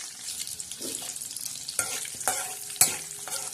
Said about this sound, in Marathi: तर हा बघा असं तडका बसत आहे भाजीला